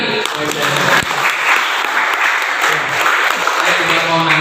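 A close, loud audience at an indoor Indonesian gathering bursts into applause. Dense hand claps run through the whole stretch, with voices and cheers mixed in.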